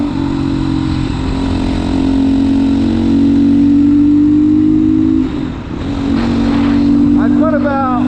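A GPX Moto FSE300R dual sport motorcycle rides along pavement, its engine giving a loud, steady drone with a brief dip in the middle, and someone talks over it toward the end.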